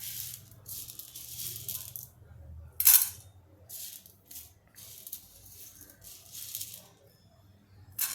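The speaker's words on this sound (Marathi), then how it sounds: "सगळी चणा डाळ मी यामध्ये घालून घेते" Dry chana dal poured into a pan for roasting while making Madras-style sambar powder, heard as several short bursts of rattling, pattering grains, the loudest near the middle, with quiet gaps between.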